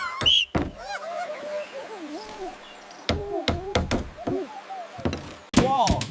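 Several sharp hammering knocks and thuds land at irregular intervals as bamboo house parts are assembled, mixed with high, chattering monkey voices and close background noise.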